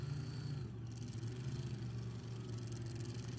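A nitro funny car drag racer idles at Sacramento Raceway, a steady, throbbing low engine drone heard from a distance, fairly faint and continuous without any revving.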